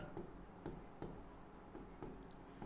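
Chalk or marker taps and strokes on a board during a maths lesson, a few soft, close scratches recurring at a steady pace roughly every half second.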